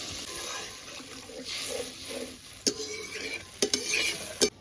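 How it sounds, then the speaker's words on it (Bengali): Water is poured into sizzling spice paste and oil for Latha fish curry, giving a steady frying hiss with stirring and a few sharp scrapes of a spoon against the pan near the end. "এখন পরিমাণ মতো জল দিয়ে দেবো, বেশি নেই,"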